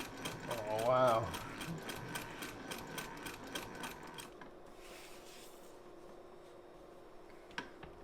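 Wheeler & Wilson No 9 treadle sewing machine stitching with a rapid, regular mechanical clatter for several seconds, then settling into quieter ticking; a voice speaks briefly near the start.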